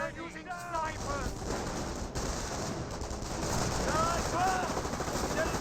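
Sniper and machine gun fire crackle through a Company of Heroes battle, dense bursts of gunfire over constant battlefield noise, with someone talking over the action throughout.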